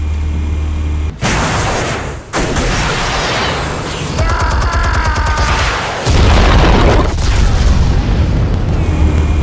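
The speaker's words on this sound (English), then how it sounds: "Explosives armed. Fire when ready." Loud, booming explosives detonate in a Batman Telltale adventure game, with heavy blasts and rumbling mechanical noise filling the scene in successive surges.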